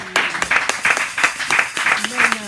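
A church congregation at a Sunday service claps in a steady rhythmic beat, fairly loud and close, with voices mixed in throughout.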